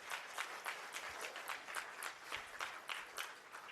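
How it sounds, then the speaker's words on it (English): Audience at a university spring symposium in a school of education claps in a sustained, even round of applause, fairly distant and moderately quiet, with no talking on top. "Give yourselves an applause."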